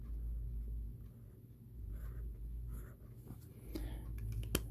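A broad-nib Lamy Vista fountain pen scratches softly across paper in close, faint, uneven strokes over a low steady room rumble.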